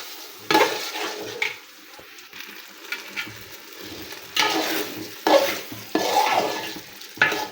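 Washed rice and chana dal fry in hot oil in a pot for biryani, with repeated close scraping stir strokes between quieter pauses and a light sizzle underneath.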